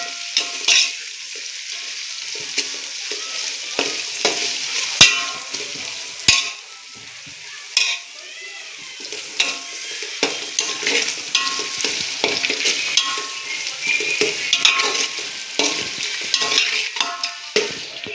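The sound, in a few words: tomatoes frying with ginger garlic paste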